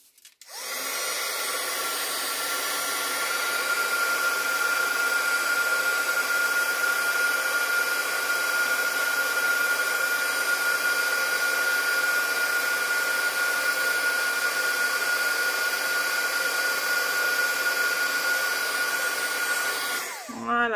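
Heat embossing tool warming a paper card, a continuous close, loud blowing whir with a steady whine that runs about twenty seconds before cutting off.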